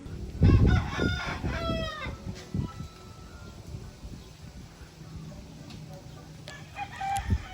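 Chickens in a farm coop crow and cluck at close range, a burst of crowing near the start followed by scattered clucks over steady background noise, with some talking mixed in.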